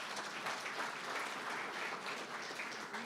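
Steady applause from a conference audience after a central bank governor's annual monetary policy statement, dense continuous clapping lasting the whole stretch without a break.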